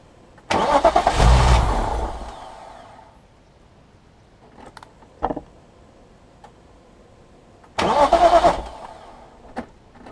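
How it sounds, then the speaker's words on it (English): A BMW S50B32 engine cranks without firing in two separate bursts, each a loud churning starter-motor whir lasting about one to two seconds, with faint clicks and ticks in the quiet gap between them. "Reconnect the battery and crank the engine."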